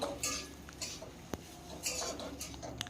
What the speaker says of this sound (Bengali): এইভাবে আরও দুই মিনিট এটাকে লো ফ্লেমে ভেজে নেব এইভাবে নাড়াচাড়া করতে করতে ভাজতে হবে